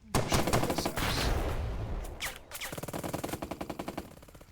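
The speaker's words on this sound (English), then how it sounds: "Shoot up this house." Machine gun fire in the Burden of Command war video game, sustained bursts followed by a rapid run of distinct rattling shots, loud and close.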